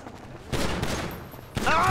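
A burst of rapid gunfire in Grand Theft Auto V, loud and dense, cutting in after a quieter moment and mixed with game sounds and shouting voices.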